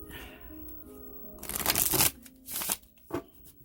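Tarot cards riffle and shuffle in a few quick bursts, close and crisp, with short pauses between bursts.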